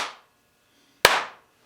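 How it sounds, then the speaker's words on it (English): Two sharp single hand claps for an audio sync test, one fading as it begins and a louder crisp clap a second later, each with a short ringing tail in a quiet room. "So there's a little clap"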